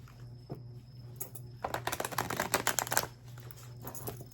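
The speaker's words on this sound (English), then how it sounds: "I'm just going to shuffle these one more time." A deck of tarot cards is shuffled once in a quick, crisp riffle of soft flapping clicks, close and quiet, against a low steady hum.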